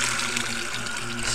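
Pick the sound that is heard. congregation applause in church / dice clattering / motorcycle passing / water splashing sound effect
water splashing sound effect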